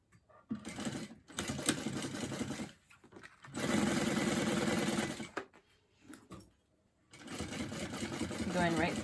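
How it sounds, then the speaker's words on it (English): A sewing machine stitches a 1/4 inch seam across the bottom of a bag, running in steady close bursts with short stops between them. "you're gonna sew with a 1/4 inch seam allowance across"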